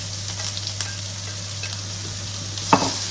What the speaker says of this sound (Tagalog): Gisa-gisa lang siya, guys. Saute-saute.